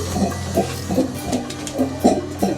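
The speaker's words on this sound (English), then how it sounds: "So that's the sound of the gulper." A boat's shower drain pump, a gulper, runs with a steady low hum and a pulsing rhythm of repeated strokes about every half second, close and fairly loud with no talk.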